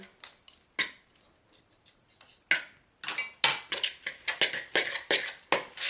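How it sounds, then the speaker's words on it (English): Chicken croquette mixture with Greek yogurt being shredded and mixed in a bowl, giving irregular clinks and scrapes of utensils against the bowl, close and fairly crisp, with short pauses between strokes. "Continuing to shred. Just mix it in there."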